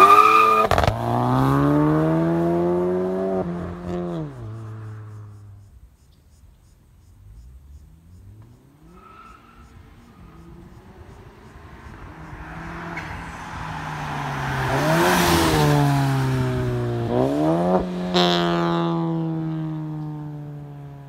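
A VW Golf GTI with a Stage 2 tuned TSI engine, around 285 wheel horsepower, revs hard through rising gears, fades to a low lull mid-way, then roars loudly again with upshifts and faint tire noise.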